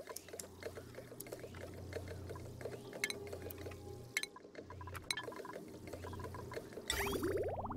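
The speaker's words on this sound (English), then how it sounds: "Now let's start dumping water in here. It should flood it." Water pours and floods into an enclosed area in the game Oxygen Not Included, a faint steady liquid patter and trickle running throughout with a brighter splashing burst near the end.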